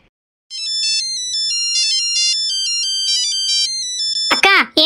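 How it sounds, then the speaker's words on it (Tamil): A phone plays a loud, close, melodic electronic ringtone that repeats a bright tune for several seconds. A voice cuts in briefly at the end. "ஃபோன் அடிக்குது ஒரு நிமிஷம் இருந்து வந்தறேன்"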